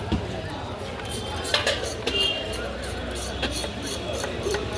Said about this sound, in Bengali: একটু একসাথে করো দুটো প্লেট